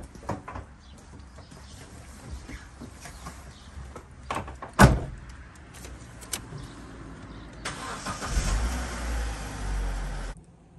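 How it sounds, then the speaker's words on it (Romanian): A 2008 Opel Corsa with a 1.4 petrol engine, 90 hp, started up: clicks and a door-like thump precede the starter, then the engine catches with a loud steady whirr that runs for a few seconds. "Haideți să pornim mașina pe unul."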